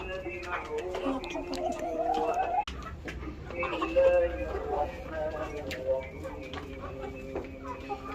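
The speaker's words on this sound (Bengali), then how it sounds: "টাইগার মুরগি।" Tiger-breed chickens about three and a half months old on a farm, clucking and calling in a busy flock, with people talking over the birds throughout.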